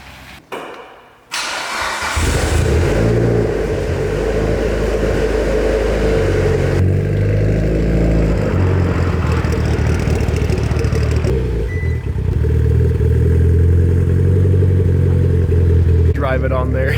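A car transport truck pulls up and idles nearby, a loud low diesel rumble that keeps going, with a brief quieter moment at the start and people talking over it.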